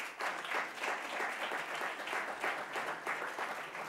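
An audience at a Nobel Chemistry commemoration diploma ceremony gives steady, continuous applause, many hands clapping together in a moderately distant hall with no speech over it.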